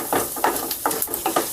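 Chana dal and urad dal frying in a pan, a spatula stirring in several rhythmic scrapes over a light sizzle, close and fairly loud.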